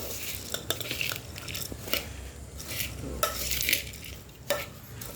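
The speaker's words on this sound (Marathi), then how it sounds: "ते चटणी आणि मीठ हे मिक्स करणार आहे" Chutney and salt are stirred into bhel, a dry puffed-rice snack, with a spoon scraping and rustling steadily against the bowl in close, repeated strokes, without speech.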